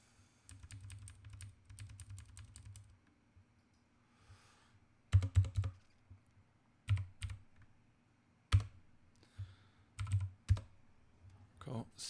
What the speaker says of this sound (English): I gotta learn how to type